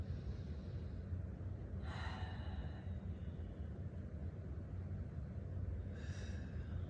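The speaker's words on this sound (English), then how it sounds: "Just taking a few more breaths here" Deep, slow breaths drawn and released during a yoga warm-up, two soft breathy swells a few seconds apart over a steady low background hum.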